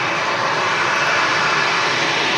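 A TUI Boeing 737 airliner roars steadily at Manchester Airport, a loud, continuous broadband engine rush filling the whole clip with no break or talk.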